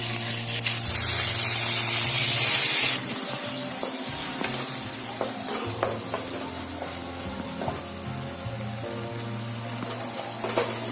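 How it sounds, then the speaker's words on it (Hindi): Onion paste fries in a kadhai with bay leaves over a medium flame. A loud hissing burst opens, then a steady sizzle continues, broken by scattered clicks and scrapes from stirring, close by. "मीडियम फ्लेम पे इसे हम अच्छे से भून लेंगे फ्रेंड्स।"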